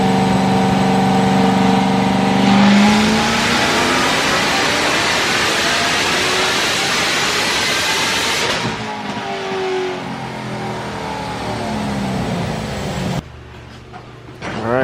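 A 1000-horsepower C7 Corvette Z06 running on E85 revs hard on a dyno, the engine climbing through a long, loud pull, then easing back to a lower, rougher idle before cutting off, close and with no talk.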